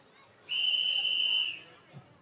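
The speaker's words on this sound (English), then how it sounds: "Just one more long whistle." A single long, steady whistle blast at a girls' swimming meet signals the start of a heat. It sounds shrill and clear for about a second, alone over a quiet poolside background.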